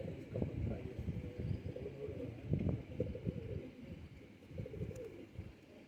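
Pigeons kept in a loft coo in low, soft, repeated murmurs with overlapping calls and faint rustling, moderately close and steady throughout.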